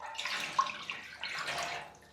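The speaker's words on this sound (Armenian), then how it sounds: "1 լիտր ջուր ունենք այստեղ, երկրորդ լիտրն էլ կլցնենք։" A litre of water is poured into a container of spices for a basturma marinade, making a soft, continuous splashing rush that swells twice and fades out near the end.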